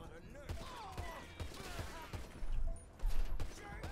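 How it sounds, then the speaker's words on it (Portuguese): Scattered gunshots in GTA 5 during a zombie apocalypse scene, a series of sharp single reports spaced roughly every half second followed by a couple of heavier thumping bursts, under ongoing talk. "Estão atirando em mim!"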